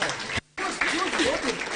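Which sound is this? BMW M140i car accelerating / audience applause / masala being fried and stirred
audience applause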